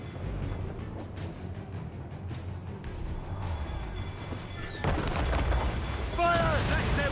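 Ship cannons fire in Assassin's Creed Rogue, booming in a rough, rumbling volley during a naval battle, with a sharper burst of blasts and crackling near the end.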